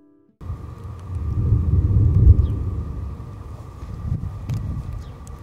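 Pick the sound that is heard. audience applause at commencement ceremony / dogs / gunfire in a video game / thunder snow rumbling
thunder snow rumbling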